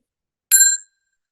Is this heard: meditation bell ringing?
yes